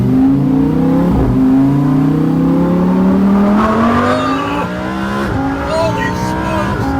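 Lamborghini Huracan Evo V10 accelerating hard, its engine wailing up through the revs in a loud rising sweep, with a quick shift and another climb, heard from the cabin with voices over it.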